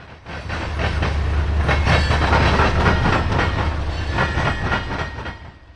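A CSX coal train rolls through a junction in Northwest Indiana, a loud, continuous rumble with steady rhythmic clickety-clack of wheels over rail joints, close to the track and with no voices.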